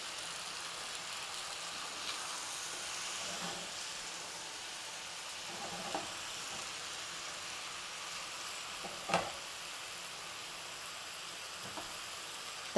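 Green beans and onion frying in a pan, a steady soft sizzle throughout with a few faint clinks and stirring knocks, no talking.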